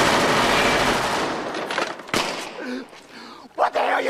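Gunshots in a rap song's spoken skit: a sharp blast cuts through the opening noise, followed by a few more bangs amid shouting voices.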